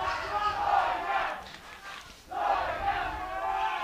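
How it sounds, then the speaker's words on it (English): Teammates cheer loudly for an archer during an under-21 women's compound archery bronze-medal final, shouting and chanting in two strong bursts separated by a short quieter gap. "Teammates cheering her up."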